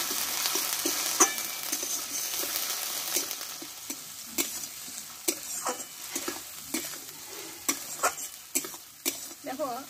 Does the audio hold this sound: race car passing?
no